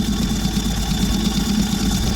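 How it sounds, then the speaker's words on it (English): A Ford Transit mk7 diesel engine, freed after being seized, idles steadily with an even low rumble and slight vibration, alone and moderately loud throughout. "from a seized engine to running sweet as a nut"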